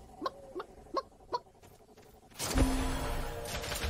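A chicken in the video game Realm Royale clucks four times in short, evenly spaced bursts, followed by a louder, harsher burst of game noise that covers the rest.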